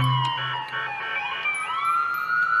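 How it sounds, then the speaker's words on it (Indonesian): A toy ambulance gives off a bright electronic siren, its wailing tones sweeping up and down continuously, close and fairly loud, with faint clicks at the start. "Wow, lihat teman-teman, di sini ada mobil ambulan."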